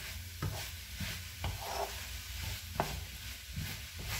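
Pak choi and vegetables stirred in a hot wok, with a low sizzle running throughout and regular scraping strokes of the utensil against the pan, close and moderately loud.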